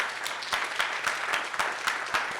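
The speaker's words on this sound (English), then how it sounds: "Let's get a round of applause here." The crowd at the BSidesPittsburgh 2024 security conference's opening remarks gives a round of applause. It is a steady, moderately loud patter of many hands, with distinct claps pulsing through it, and no talking over it.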